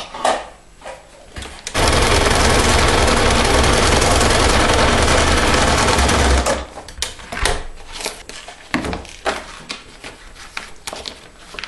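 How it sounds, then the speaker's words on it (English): A sewing machine runs a quick straight stitch through a foam storage binder, a loud steady mechanical whir lasting several seconds, then stopping, followed by scattered handling clicks and knocks. "I will flip this open and I just give this a real quick straight stitch"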